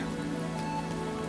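Steady rain falls on a surface in a close, even patter that carries on without a break.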